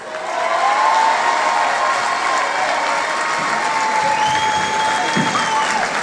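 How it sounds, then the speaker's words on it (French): A crowd at a Kha b'Nissan Akitu celebration gives sustained, loud applause for new president Max Yabas, continuous clapping with a faint tonal line of music or voice running through it. "Nous vous demandons un tonnerre d'applaudissements, s'il vous plaît, pour notre nouveau président,"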